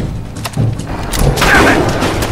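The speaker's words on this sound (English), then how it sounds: "Oh fuck, there's another one. Shoot it now. Minigun." In a video game, a minigun fires on a Deathclaw, producing a build of heavy booming gunfire bursts that thicken into sustained loud shooting.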